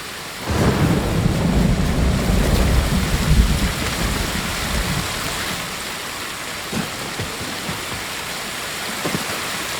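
A waterfall in the Ghost of Tsushima game gives a loud, steady roar of rushing water. A heavy low rumble in the first few seconds settles into a constant hiss with no talking.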